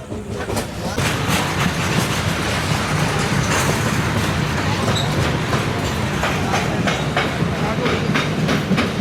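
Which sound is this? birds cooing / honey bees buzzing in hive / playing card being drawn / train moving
train moving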